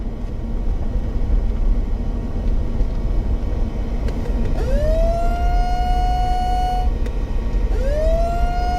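A rising electronic weather app alert tone for a tropical storm warning sweeps up and holds steady, sounding twice over a constant low rumble, the second tone starting near the end.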